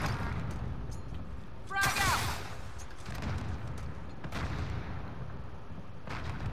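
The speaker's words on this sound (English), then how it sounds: "Frag out! Sending rocket." A rocket launch and blast ring out in the Call of Duty: Modern Warfare video game, a sharp burst and rumbling boom amid scattered distant gunfire and voices.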